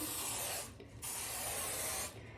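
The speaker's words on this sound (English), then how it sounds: "I'm just gonna give it a quick spray again." Two short hissing bursts of hairspray, close up, separated by a brief pause, with no talking.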